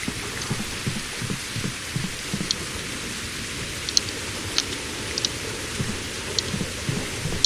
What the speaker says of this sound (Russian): Что там дождь когда кончится?